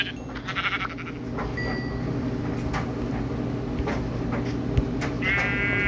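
Sheep bleating in the video game Minecraft Pocket Edition (Bedrock): a few short bleats rise over a steady game background hum alongside other game sound effects, with no talking.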